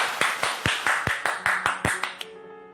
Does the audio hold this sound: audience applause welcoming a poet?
yes